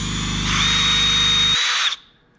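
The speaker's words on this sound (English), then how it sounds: "I'm going to hold it in place, line up my drill in the middle-ish." A power drill runs steadily for about a second and a half, marking a spot on a deck chair board with the bit centred on the wood, then winds down and stops.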